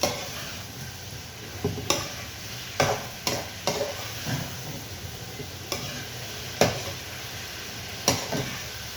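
Shrimp being stirred in oyster sauce in a pan, with a soft steady sizzle under intermittent utensil scrapes and clacks against the metal, spaced irregularly across the stretch; no talking.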